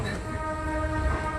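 A train pulls out near a highway, giving a steady close rumble with a sustained tonal hum from the rail cars throughout.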